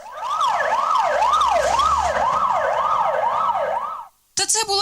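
Fire engines pull out on an emergency call, a loud wailing siren rising and falling steadily in repeated sweeps close by, then cutting off abruptly before a brief voice.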